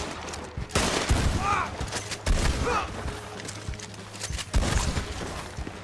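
Rapid bursts of gunfire erupt during a video game battle, with loud repeated shots and booms layered over in-game sound and a voice talking intermittently.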